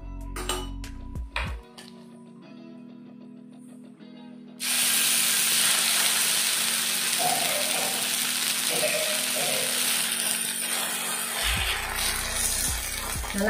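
Saranai keerai adai frying in oil: after a few quiet clinks and clatter, a loud steady sizzle starts suddenly and keeps hissing for the rest of the clip.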